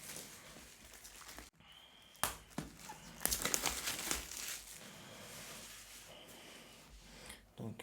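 Plastic and cardboard packaging of an Apple TV 4K (2021) crinkles and rustles close up during unboxing, with scattered tearing and rubbing sounds, quiet overall with a few sharper bursts.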